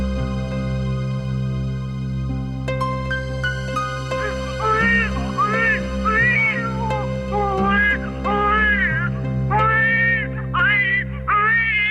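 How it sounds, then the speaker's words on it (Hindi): An animated baby girl cries from inside a clay pot, wavering wails repeating over a sustained musical drone, fairly loud and close. "ये बच्चे के रोने की आवाज कहां से आ रही है?"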